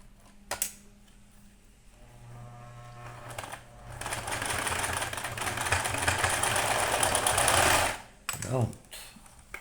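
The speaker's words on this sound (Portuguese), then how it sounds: "Então agora a gente vem aqui, passa uma costurinha aqui embaixo" A sewing machine runs a short, steady burst of stitching along the bottom edge of a fabric bunny bag, fairly close, with brief handling noises before and after and someone speaking around it.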